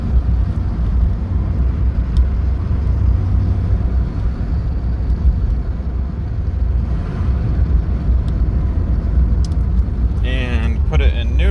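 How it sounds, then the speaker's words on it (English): A 1983 Porsche 944 engine pulling at low RPM in second gear, a steady low rumbling drone heard from inside the moving car with road and wind noise. "Currently in 2nd gear. Give you a little low RPM grunt down low."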